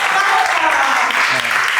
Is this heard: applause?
yes